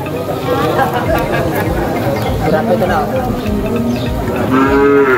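Water buffalo low and moo amid a noisy crowd at the Sibalom livestock market in Antique, Philippines, with people chattering, haggling and calling out throughout.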